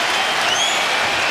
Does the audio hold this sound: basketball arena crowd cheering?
yes